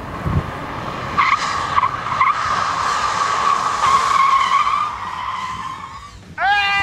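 Tires screech loudly as a car skids with locked wheels in a crash test above 208 km/h, the squeal rising and wavering for several seconds before a brief pause and another sharp burst.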